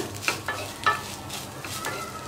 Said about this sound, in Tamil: இப்போ மிக்சியில் அரைச்சி வச்ச வேர்க்கடலையை நம்ம போட்டுக்கலாம். நல்லா மிக்ஸ் பண்ணி விட்டுருங்க.